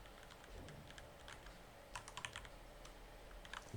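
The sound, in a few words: typing text on computer keyboard in AutoCAD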